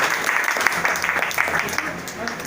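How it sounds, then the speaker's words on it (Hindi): An audience claps for a Modicare crown diamond director at a motivational talk, a dense, lively burst of many hands near the microphone with a few sharper claps standing out and a voice faintly mixed in. "जबरदस्त तालियां सर के लिए।"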